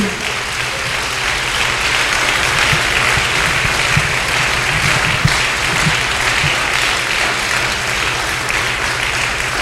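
A church congregation applauds steadily for several seconds, dense and sustained clapping filling the room at an even level without a break.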